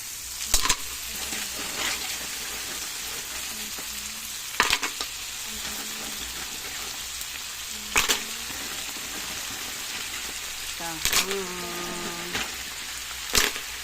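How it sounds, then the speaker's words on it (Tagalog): Mussels for ginataang tahong cooking in a pan with coconut milk give off a steady close sizzle, broken every few seconds by a sharp scrape and clatter of stirring, with no voices. "Mix na natin guys yung ating tahong."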